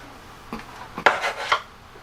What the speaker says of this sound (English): I take this and I poke some holes in the side of the foil pan.